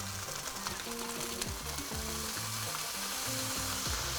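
Bean sprouts stir-fried with a splash of fish sauce in a hot pan give a soft, steady sizzle with light stirring, set against a low, stepping musical background and no talking.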